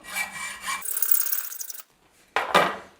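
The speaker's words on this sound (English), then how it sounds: "I'm just going to stick a case in my vise and cut it down with a hacksaw." Hacksaw cutting through a brass .50 cal bullet shell case clamped in a vise, heard as raspy back-and-forth strokes up close, a longer continuous stroke, a short pause, then another sharp rasp.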